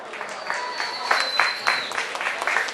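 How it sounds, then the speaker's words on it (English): Audience applause and cheering at a Bellevue restaurant fundraiser for MS, irregular clapping with a few louder bursts and whoops, fairly close and lively, with some voices mixed in. "Give a round of applause, guys"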